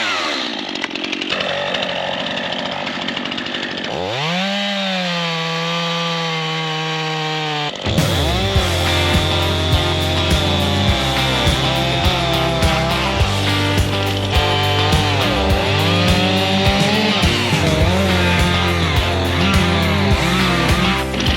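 A chainsaw cuts through oak trees being felled and bucked for firewood on an off-grid homestead, first a steady idle-like drone, then a loud, sustained roar with varying pitch as the chain bites into wood.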